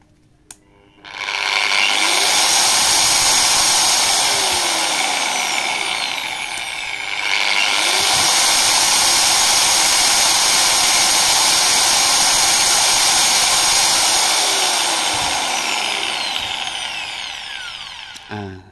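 A DeWalt angle grinder spins up and runs at maximum speed 6 with a loud, steady high-pitched whine. It dips briefly midway, then holds at full speed before winding down at the end.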